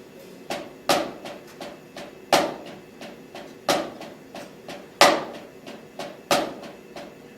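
A drum sounds a paradiddle sticking pattern with the accent on the second note, giving sharp, fairly close strokes where every few hits stands out louder against softer taps in a steady, even rhythm.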